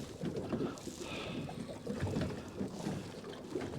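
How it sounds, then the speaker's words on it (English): Gusty wind buffets the microphone out on the water during a fishing trip, rumbling in uneven surges with faint lapping beneath, no talk. "That wind is really wanting me to turn me around."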